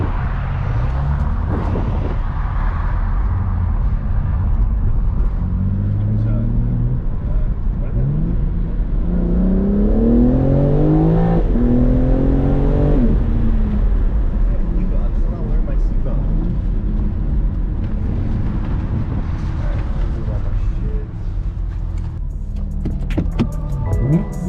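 BMW G80 M3 driving through a brake test, with a steady road and engine drone throughout and rising and falling engine tones in the middle; people talk over it.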